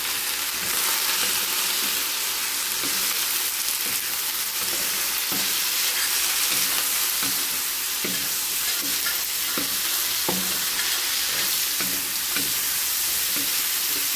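Shrimp sautéing in a pan with aromatics, seasoned with crushed black pepper, giving a steady loud sizzle under repeated scraping stirs and clinks of a utensil, with no talk.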